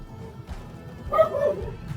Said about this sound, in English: When I make videos, sometimes my dog likes to bark.